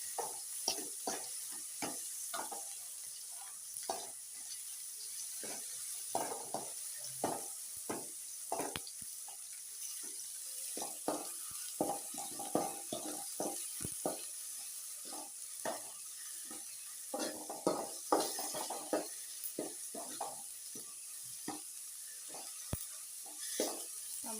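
Chicken cooking in a pan with ginger garlic paste for a Telugu-style chicken curry, giving a steady sizzle broken by repeated scraping and stirring strokes, close and moderately loud with no talking.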